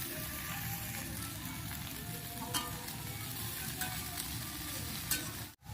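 Chickpea greens dropped into hot oil with slit green chillies in a pan, a dense steady sizzle with a few crisp pops, ending in an abrupt cutoff.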